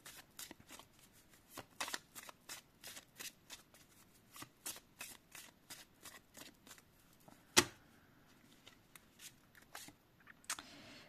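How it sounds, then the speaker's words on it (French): Oracle cards shuffled by hand in a quick series of crisp riffling bursts, with one louder snap partway through, close and clear with no talk over them. "on va aller prendre une carte conseil."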